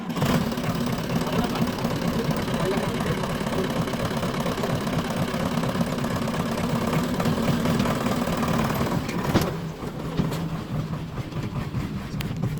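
A tractor engine runs steadily close by, a continuous low rumbling drone that holds even for most of the stretch before shifting and softening near the end, with no talk over it.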